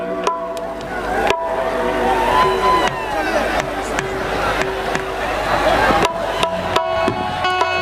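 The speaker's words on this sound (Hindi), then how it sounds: "यहाँ एक बार जोरदार हल्ला करके ताली जरूर बजाइएगा आप सब" A large outdoor crowd at a Khesari Lal Yadav welcome event in Pakki Lalu Maidan, Jharkhand, roars and cheers in a sustained mass of noise, with whistles and bursts of louder shouting mixed with babble.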